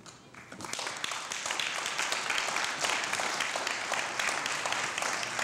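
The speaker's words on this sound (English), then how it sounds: "I'd just like to applaud you at this time for a job well done." Crowd applause at a Norristown municipal Black History event during a council meeting, rising from a quiet start into broad, sustained clapping that stays even and fairly distant to the end.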